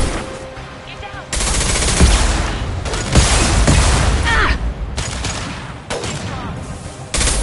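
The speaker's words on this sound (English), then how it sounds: "Firing a high-impact shot." Gunfire in the sci-fi shooter Mass Effect 2: loud bursts of rapid automatic weapon fire and heavy single shots, separated by short gaps, with booming impacts and a few game voice lines.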